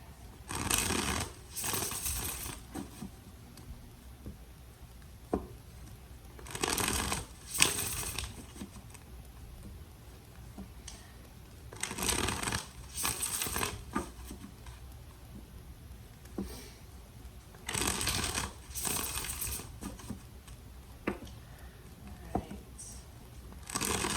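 Tarot cards are shuffled in quick riffling bursts, several separate rounds with quiet pauses between them, close by and fairly soft.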